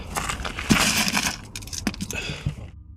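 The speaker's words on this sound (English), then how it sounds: "Suddenly, the sound of smashing glass shatters the silence." A glass window is smashed in a sudden burst of crunching and shattering, followed by scattered tinkling fragments that cut off abruptly.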